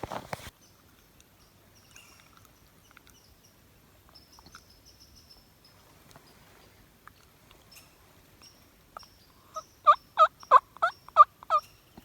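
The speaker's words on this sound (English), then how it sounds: "there's birds around there gobbling" Wild turkeys gobbling on a cold Minnesota spring morning during turkey season: a single quick rattling burst of gobbles near the end, fairly faint and distant, over otherwise quiet surroundings.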